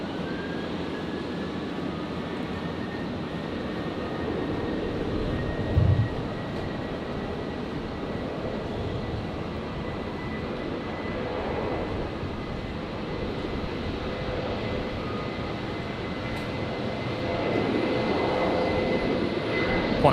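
Qantas Boeing 737 jet rolling for takeoff on runway 01 right at Brisbane Airport, a sustained engine roar with a faint whine, swelling slightly toward the end, heard from a distance without talk.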